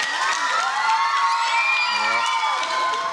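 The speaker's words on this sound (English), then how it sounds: "Give him a round of applause." A large crowd at a Nashville Predators hockey event cheers and shouts with whoops and a few high-pitched voices, a dense, loud, steady roar lasting throughout with no clear applause rhythm standing out.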